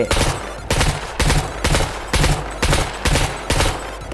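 A weapon fires at a robot in the video game SCUM. About eight loud, sharp bursts of shots repeat at an even rhythm roughly every half second, close and alone with no talking.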